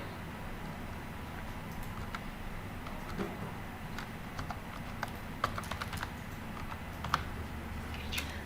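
Quiet, irregular key taps on a computer keyboard, typing a name, with a few sharper clicks over a low room hum and no voices.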